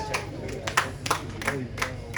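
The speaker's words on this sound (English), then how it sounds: "Well, the people who have clapped, I don't know what." Audience members clap in a series of sharp, irregular hand claps over a continuous murmur of background noise and voices at an event.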